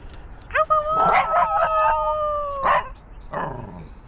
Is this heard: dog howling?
yes